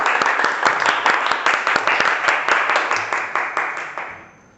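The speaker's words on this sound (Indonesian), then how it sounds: "Jadi kita berikan tepuk tangan kepada Adit." Students in a classroom applaud a classmate during a practice lesson on vehicle engine cooling systems, a short burst of distinct, fairly close claps that tapers off and stops.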